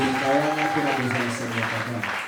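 A church congregation applauds during a Sunday service, clapping steadily under a voice that talks over it throughout.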